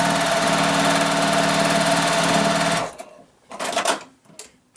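Sewing machine stitching quilt pieces for a beginner one-window house block, a fast steady whirring chatter close up for about three seconds, then stopping, followed by faint handling rustles.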